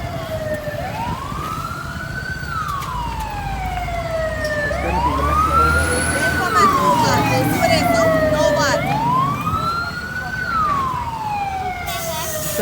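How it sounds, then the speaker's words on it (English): A fire engine siren wails at a house-fire scene, its long rising and falling sweeps repeating about three times over steady background rumble, loud and fairly close, with faint voices underneath. "Fire engines now."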